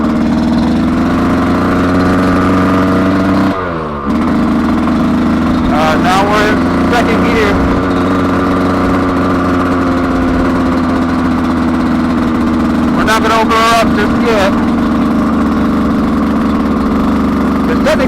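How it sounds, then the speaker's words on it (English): A 2025 Yamaha YZ125X two-stroke dirt bike engine idles loudly and steadily on 32:1 premix, a constant buzzing drone close by with brief bursts of voice over it. "Letting the engine get used to the new Premix."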